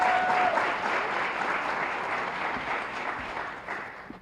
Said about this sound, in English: An applause for all the families here.